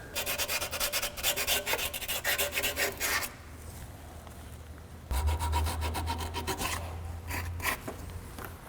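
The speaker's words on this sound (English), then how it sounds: "I'll hit it with a little bit of emery cloth, both there and on the engine block." Emery cloth rubbed by hand across the surface of a 2003 Nissan 2.5L engine block during water pump replacement, rapid rhythmic scraping strokes close up, pausing briefly, then resuming with another run of strokes.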